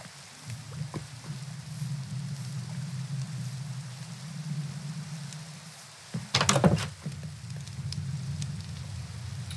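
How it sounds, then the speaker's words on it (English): Steady rain falls in the Minecraft video game, a continuous soft hiss with a low rumbling bed, and a brief louder clatter about two-thirds of the way through, with no talking. "Thunderstorm or just rain? This is why we installed just rain."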